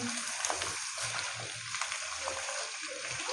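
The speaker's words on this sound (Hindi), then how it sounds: "यहाँ पे पंजों की हमने अच्छी तरह भुनाई कर लेनी है" Chicken feet frying in a pan, a continuous dense sizzle with crackling pops throughout, close and steady.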